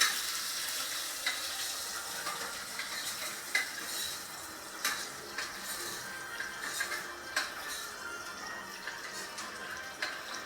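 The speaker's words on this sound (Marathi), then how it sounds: "आता याला चांगला परतून घ्यायचं आहे लाल होईपर्यंत" Onion fries in oil in a pan with a steady, close sizzle, while a spoon stirs it now and then with light scraping clicks.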